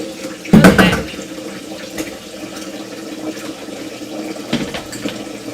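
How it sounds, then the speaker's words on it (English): Water from a tap gushes in a loud burst, then settles into a softer, steady trickle with a few splashes, heard close up in a home soap-making setting. "Excuse the noise of running water."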